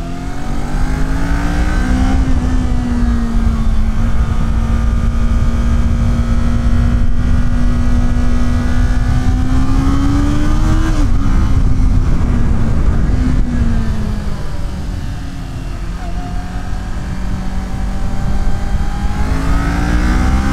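A 2019 Kawasaki Ninja 400 motorcycle engine revs hard through short gears, close and loud, pitch rising steadily then dipping at shifts and climbing again, with wind rush beneath.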